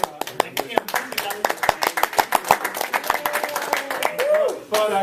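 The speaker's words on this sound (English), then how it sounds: "how about a round of applause for Sandra and Kim?" A small group gives a round of applause at an office gathering, sharp distinct hand claps in an uneven rhythm, close and fairly loud, fading out near the end.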